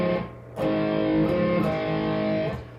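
An electric guitar plays a double-stop riff slowly, with sustained, slightly distorted two-note chords shifting back and forth, loud and close with no talking.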